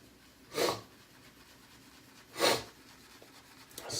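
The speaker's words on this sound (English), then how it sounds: "Sorry about the sniffles. I'm still trying to get over this cold." Two short, quiet sniffles from a man with a lingering cold, spaced about two seconds apart, close to the microphone in an otherwise hushed room.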